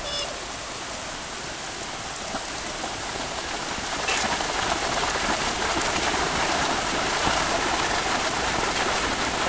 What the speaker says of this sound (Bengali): বৃষ্টি হচ্ছে দেখেন একদম পুরো কড়া বৃষ্টি